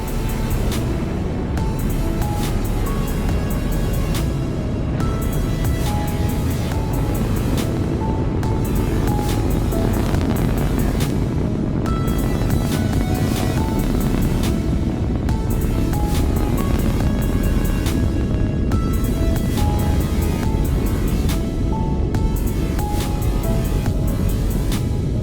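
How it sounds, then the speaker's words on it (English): Rocket engines roar at liftoff in the Kerbal Space Program video game, a loud steady broadband rumble that holds unbroken for the whole stretch with no voices. "In the dead of night, Catless lights its engines and is away."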